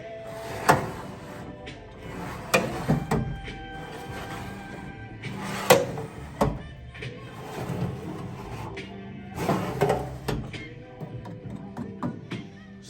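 Drawers of an old toolbox top box with worn, ungreased slides are pulled open and pushed shut repeatedly, giving metallic scrapes and sharp clunks in irregular bursts, with a metal ringing between them.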